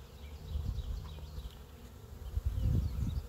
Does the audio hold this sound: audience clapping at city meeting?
no